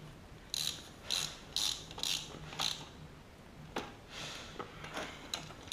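Close ratchet wrench clicking in short bursts while torquing a dirt bike sprocket, about six quick rasping runs of pawl clicks followed by a few fainter ones, with no talking over it.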